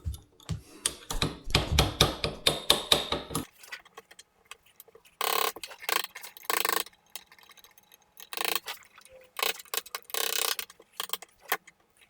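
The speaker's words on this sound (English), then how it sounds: "use my hammer and punch until I can start hand tightening it" A hammer strikes a punch to seat a metal collet on a Porta Power hydraulic ram: sharp metallic taps in a fast, steady run at first, then irregular bursts of clanking and knocking with quiet gaps between.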